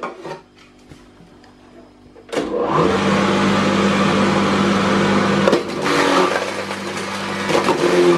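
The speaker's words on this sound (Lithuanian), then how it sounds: "Svogūnus malam su smulkia tarka" Onions ground on a fine grater for a beet spread: after a few quiet seconds, a loud, steady whirring rasp starts and runs continuously, with a brief dip midway before carrying on.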